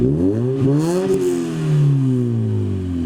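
A Toyota 4A-GE engine, newly converted and fitted with new exhaust pipes, revs up loud and close, its pitch sweeping up and easing back down in a few surges with a clattering edge.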